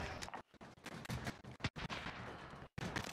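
An airstrike in the Warzone battle royale game, heard as a dense run of explosive blasts and gunfire that cuts out briefly at times, fairly quiet overall.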